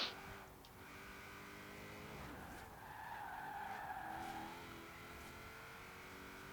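Rally car skidding in Forza Horizon 4, a sustained tire skid with steady engine drone running throughout, rising to a louder squealing slide midway before settling back, with no talk over it.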